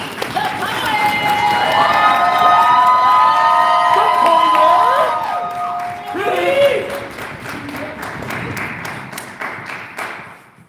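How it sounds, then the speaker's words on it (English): Audience at a downtown Las Vegas poetry slam festival claps and cheers as a poet takes the stage, loud whoops and shouts over dense clapping that rises, dips and continues more sparsely. "coming to the stage right now, let's start clapping for me"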